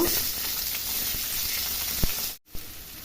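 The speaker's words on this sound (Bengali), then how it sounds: "এবার আমি পেঁয়াজগুলো লাল লাল করে ভেজে নেব" Chopped onion sizzles steadily in hot oil with cumin, bay leaf, cinnamon and dried chilli, a close continuous hiss broken by a brief stir and a short drop in sound near the end.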